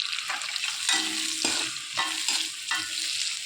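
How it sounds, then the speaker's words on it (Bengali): Onion cubes stir-fried in a hot pan give a continuous sizzle broken by repeated scraping strokes of the spatula, close and fairly loud, with no voices. "এবার ভালো করে নেড়ে চেড়ে নিচ্ছি পেঁয়াজটাকে। আর একটুখানি পুরো ব্রাউন কালার করে ভেজে নেব।"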